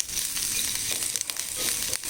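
Chili powder fries in hot oil in a pan. A soft, steady sizzle and crackle carries on alone throughout, fairly quiet with a few brief sharper pops.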